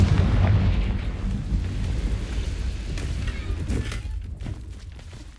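A Confringo blasting spell in Hogwarts Legacy bursts in a heavy, booming explosion at the start, followed by rumbling debris that slowly fades over several seconds.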